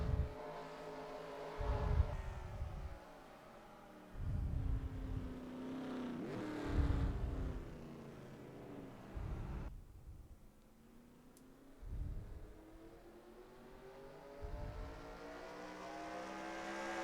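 Simulated NASCAR race cars in NASCAR Racing 2003 howl past in repeated waves on a road course in Canada, each engine rising in pitch and then fading as it passes, with a steady background engine drone and no talk.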